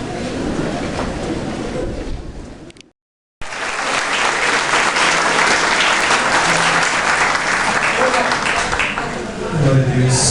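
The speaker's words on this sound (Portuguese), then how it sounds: "As palmas adoram e louvam o nome de Jesus" A church congregation at a pastor's ordination ceremony applauds with loud, dense, sustained clapping. After a brief cut, the applause builds into a steady roar that fills the space, with voices mixed in underneath.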